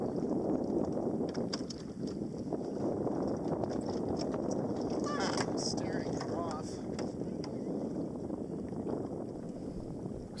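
Strong, steady wind roaring across a sailboat at anchor, continuous broadband buffeting close to the microphone with a few faint rattles and clanks mixed in, no gaps over its length.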